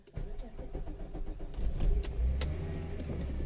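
A Volkswagen Corrado with a bad engine cranks and catches, then settles into a steady idle, close by, with a faint jingle of keys at the start.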